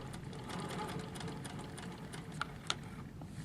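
A Handi Quilter longarm quilting machine stitches steadily along a ruler, a fast, even mechanical hum of needle strokes at moderate volume, with a couple of small clicks near the end and no talking.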